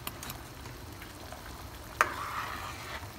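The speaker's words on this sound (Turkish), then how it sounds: "Reçelim tam 2 saattir kaynıyor." A quiet, steady bubbling simmer of jam boiling in a pot, with soft popping, plus a single sharp clink partway through; no talking.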